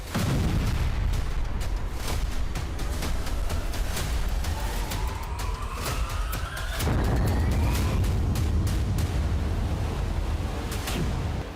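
A series of heavy booms and blasts from a drone strike on a Crimean port over a dense, roaring rumble, with a rising whine cutting through the middle; loud and continuous throughout.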